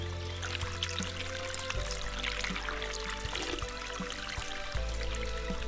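Water gushes and trickles steadily from an old well-fed supply, a continuous splashing pour with a low hum underneath, moderately close and without talk.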